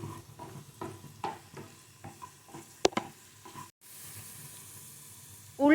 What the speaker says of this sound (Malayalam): ഇനി ഈ ഉള്ളി ഒന്ന് വഴറ്റി കൊടുക്കുക.